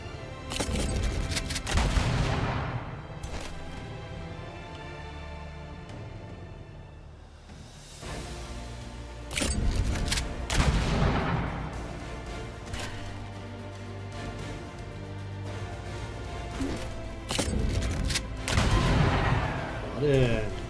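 Repeated gunfire and heavy booming impacts from ranged units in the fantasy strategy game Age of Wonders 4, coming in loud bursts over a game music bed, with a player talking over parts of it.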